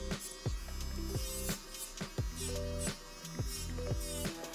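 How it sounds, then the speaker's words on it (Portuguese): An electric nail drill spins a bit against a gel nail, a close steady whine that repeatedly drops and rises in pitch as the bit presses on and lifts off the nail. "podemos acentuar a nossa curvatura exatamente com esta broca, passando muito devagarinho por dentro"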